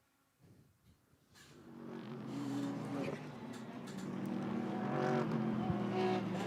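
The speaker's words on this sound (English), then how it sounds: "Dropping a wheel in Roger Penske's grass here at the Indianapolis Motor Speedway." GT race cars lapping Indianapolis Motor Speedway during the Indianapolis 8 Hour endurance race, their engines rising from near quiet into a loud, sustained roar with climbing and shifting engine tones as they power past.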